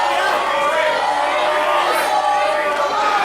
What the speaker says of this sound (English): The crowd here somewhat divided. Interesting to hear.